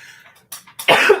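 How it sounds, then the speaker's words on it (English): A single person coughs sharply a few times, with small throaty bursts leading up to one strong, close cough at the end. "And apparently I'm going to start coughing now."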